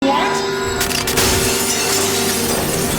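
Glass roof shattering in a dramatic film scene, a sudden loud burst of breaking glass followed by a dense, sustained crash and debris under a continuous music bed, with no speech.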